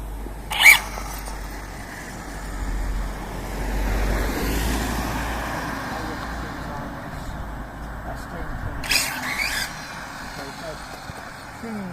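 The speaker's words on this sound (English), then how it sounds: "I'll just wait for this car to go past." A car drives past on a road near a Team Corally Python 6S RC car setup, its engine noise rising and fading, with a person talking briefly in the foreground.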